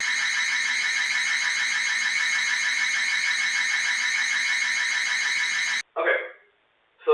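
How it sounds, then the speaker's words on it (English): A Ring Stick-Up Cam's built-in siren alarm blares as a loud, continuous electronic wail with a pulsing texture, heard from a few feet away, then cuts off abruptly and is followed by a brief burst of other noise. "There is a siren alarm built inside if you activate it with the motion sensors"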